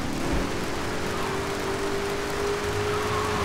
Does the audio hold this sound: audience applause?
no